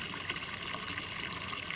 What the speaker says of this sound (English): just run some clean water back in here, run it back out through the system to wash it out